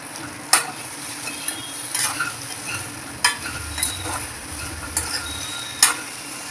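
Curry leaves fry with a steady sizzle in a pan for a Maravalli kilangu poriyal, broken by several sharp scrapes and clinks of a stirring spoon at irregular intervals, close and moderately loud with no talking.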